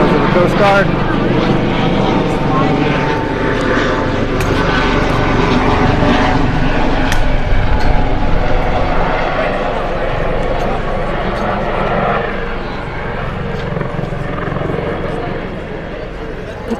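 Red-and-white Coast Guard helicopter flying over a Memorial Day parade, a loud, steady rotor and engine roar filling the whole stretch, with crowd noise and voices underneath.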